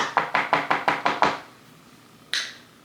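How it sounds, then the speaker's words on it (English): Knuckles rap on a closed door in a quick run of seven evenly spaced knocks, close and fairly loud, then a pause and one more single knock. "I'm knocking on the door."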